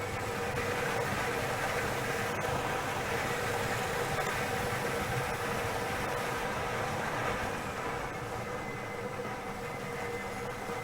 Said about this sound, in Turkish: İlki için makinemiz toplarını karıştırmaya başladı bile.